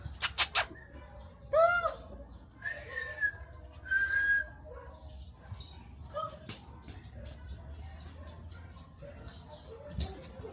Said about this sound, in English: They instigated a small dog fight outside.